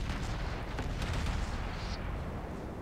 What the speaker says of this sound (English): Looks like the Novik is firing at us